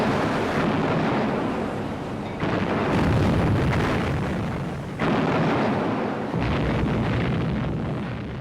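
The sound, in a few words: huge explosion as battleship HMS Hood's magazine is hit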